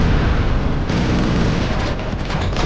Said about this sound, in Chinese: 紧接着便扣动扳机不断猛射。